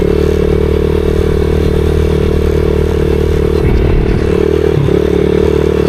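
A pit bike rides a flat track lap, its engine droning loud and close at steady revs, with a brief scraping clatter and a dip near the end.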